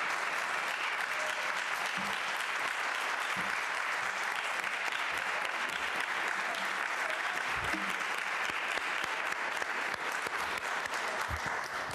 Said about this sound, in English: Another round of applause for January.